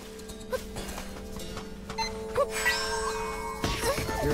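Horse hooves clip-clop in Zelda: Echoes of Wisdom, crossing the Gerudo Desert, a few light, scattered steps mixed with chiming game effects and background music.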